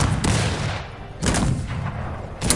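Cannon and musket volleys in the video game Cossacks 3: three sharp, loud bursts of gunfire roughly a second apart, each followed by a rumbling tail that overlaps a continuous battle din.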